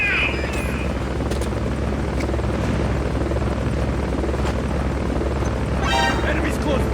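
Helicopter from the Metal Gear video game, a steady low rotor drone running throughout with game effects and a brief radio-style burst over it, plus faint voice in the background.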